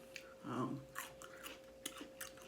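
Close, soft chewing of a crunchy sushi roll, with a few moist bites and crunches, quiet and irregular, with no talking.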